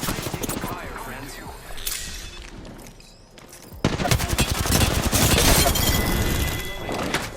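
Rapid bursts of automatic gunfire in the Apex Legends video game, loud and dense, with a steady barrage in the second half, alongside crashing impacts and game sounds.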